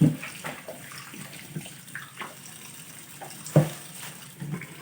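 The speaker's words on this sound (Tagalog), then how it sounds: "hugasan lang natin muna yung manok" Raw chicken being washed under a running tap, a steady soft water stream with small splashes and a few louder sloshes as the meat is handled, close and moderately quiet.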